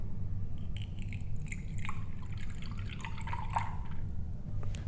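Water drips and trickles steadily into a container used as a counterweight to measure the effort on a lever, a continuous close watery patter with scattered brighter drops and no talking.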